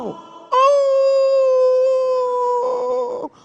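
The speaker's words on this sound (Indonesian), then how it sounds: "Tadi waktu suara azan berkumandang, terdengar suara anjing melolong." A single long, steady dog howl rings out clearly during the Islamic call to prayer, holding one pitch for a few seconds before breaking off.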